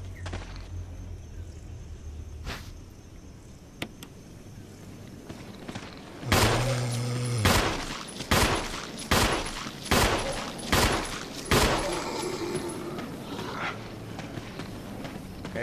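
Gunfire in the survival horror game Resident Evil HD Remaster: a loud burst of shots, then about six sharp, close reports spaced roughly a second apart, with no talking.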